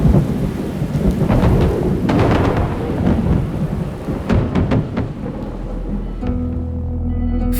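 Loud thunder rumbles and crashes over steady heavy rain during a lightning storm in tornado country, with a deep roll fading to a lower hum near the end and no voices.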